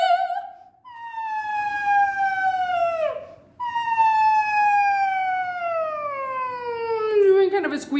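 A single voice slides through high, squeaky siren-like glides as a vocal warm-up, two long descending sweeps with a short break between, imitating a siren, loud and close with no other sound.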